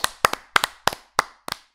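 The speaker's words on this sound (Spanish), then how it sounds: "Un fuerte aplauso por esta gente que se queda hasta el final de los créditos." Applause for viewers who stayed to the end of the credits: about five or six distinct, close, loud claps in loose pairs, then a fading final pair, with no voices.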